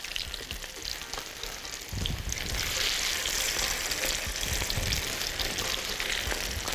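Spicy potatoes fry in hot oil with a steady, dense sizzle that grows a bit louder partway through, with occasional stirring bumps, close and continuous.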